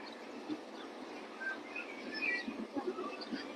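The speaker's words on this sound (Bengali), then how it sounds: "দেখেন গাংচিল উঠতেছে।" Seagulls over clear blue sea at an old port with ships at anchor, giving faint, scattered short calls and chirps over a steady background hiss.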